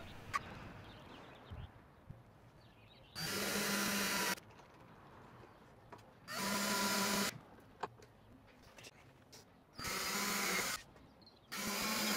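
A drill bores holes into the wooden wall of a little free library in four loud, steady bursts of about a second each, separated by quiet gaps with faint handling knocks.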